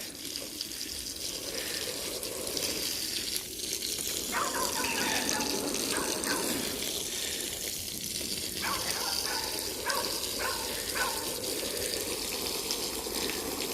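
Water gushes and runs steadily as a wool rug is flushed during carpet cleaning on a hillside, a continuous wash of liquid with some brief clattering and splashing bursts.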